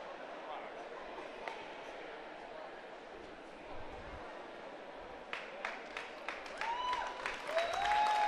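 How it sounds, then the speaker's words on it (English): Spectators applaud a swimmer at an NCAA Division II swimming and diving meet in an indoor natatorium, a broad, distant wash of clapping that swells toward the end over echoing hall noise, with voices and cheers mixed in. "gets a round of applause"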